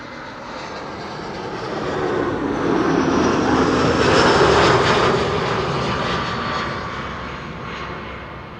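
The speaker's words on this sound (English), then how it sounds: "This is an A319 arriving from London Gatwick." An Airbus A319 jet airliner arriving at Amsterdam Schiphol from London Gatwick, its engine roar swelling from a distant rumble to a loud broad pass overhead, then fading slightly, with no voices.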